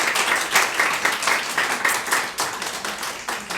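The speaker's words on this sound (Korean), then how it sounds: "우리 박수를 좀 드릴까요?" A church congregation at a year-end Sunday service claps together, loud and close, with a rhythmic pulse of roughly two beats per second running steadily throughout.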